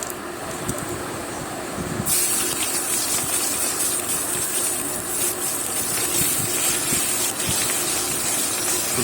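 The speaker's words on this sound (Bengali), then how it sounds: "লাল লাল করে ভেজে নেবো ভালো করে" Onions fry in hot oil in a wok tempered with cumin, whole garam masala and dried red chillies for mutton keema, giving a continuous sizzling hiss that swells after the first two seconds and carries on steadily.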